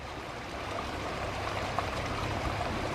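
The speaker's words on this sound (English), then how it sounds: "Well, there's the creek. Moving pretty swift this morning." A swift creek flows in the morning with a soft, continuous rushing murmur and a few faint trickling splashes, heard from nearby at low level without any talk.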